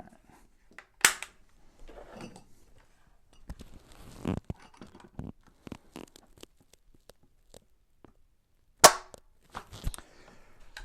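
Trigger of an IWI Tavor TS12 shotgun breaking against a Lyman digital trigger gauge: two sharp, loud snaps several seconds apart, separated by quieter handling clicks and rustles, with no talking.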